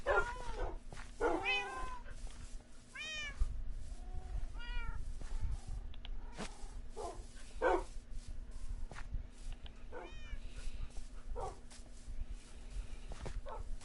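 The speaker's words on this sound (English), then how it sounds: "Well, come on, kitties." Minecraft Bedrock cats on PS4 meow repeatedly in short, scattered calls, several of them close and clear, mixed with occasional dog-like whimpers and yips over a low steady hum.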